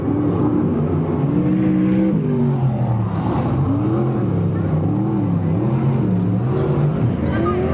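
360 sprint race cars roar around a dirt oval at Marysville, California, engines rising and falling in pitch as they accelerate and pass, loud and continuous, with a voice faintly audible beneath the racket.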